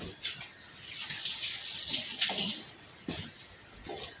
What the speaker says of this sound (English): Let me just give my hands a quick rinse.